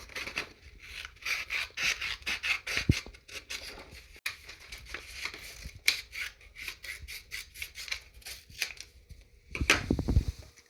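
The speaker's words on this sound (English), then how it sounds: "it's such a small and easy design that I always just use scissors" Scissors cut out a small paper or vinyl design for a personalized mug, making a steady series of close, soft snipping and rustling strokes, with a louder cluster of cuts at the end.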